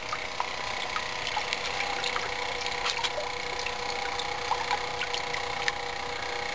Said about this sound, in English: You can hear the pump going.